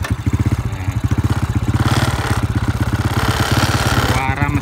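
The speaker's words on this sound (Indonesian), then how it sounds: "suara mesin kalian dengerin" An old motorcycle engine idles with a steady, rapid, lumpy clatter, loud and close, running continuously for the whole stretch.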